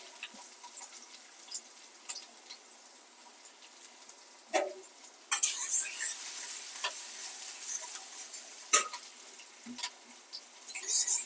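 Green chilli, chopped onion and ginger frying in a pan, a soft steady sizzle with occasional sharper scrapes of stirring, close and moderately quiet with no talk.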